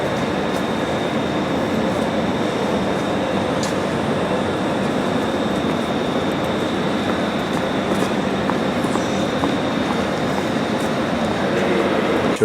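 Ambient hum of the interior of a Budapest railway station with classic European railroad design, a steady loud wash of train and platform noise with a faint high tone, no talk.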